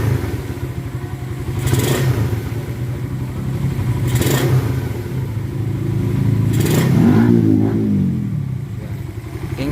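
A carbureted motorcycle engine with a faulty carburetor idles close by with a lumpy, uneven rumble, blipped up briefly three times in short revs before settling back.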